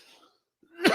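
A single sharp, loud cough bursts out near the end after a stretch of near silence, preceded by a faint murmur.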